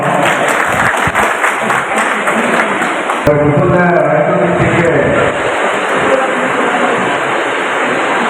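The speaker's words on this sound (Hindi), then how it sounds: "तालियों के साथ आप लोग स्वागत करिए" An audience at a community gathering gives a strong burst of applause to welcome a speaker; the clapping gives way midway as a voice starts talking over lingering crowd noise.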